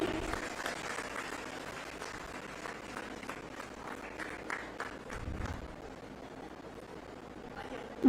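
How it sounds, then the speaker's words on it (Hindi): An audience at a farming campaign launch event in Guniyal village, Dehradun applauds to welcome the Chief Minister, with a steady sustained clapping that stays moderate and fairly distant, and voices mixed in. "कृपया तालियों से स्वागत करें।"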